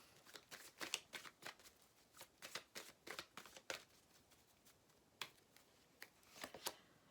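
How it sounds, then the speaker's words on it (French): Tarot cards slid and laid down one on another in a quiet room, a run of soft papery flicks and taps in irregular bursts, close and fairly faint, with no talking. "on va mettre une carte en plus dessus."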